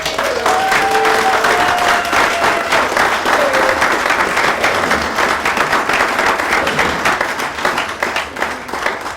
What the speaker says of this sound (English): Without another word, round of applause for Steve Ellmore.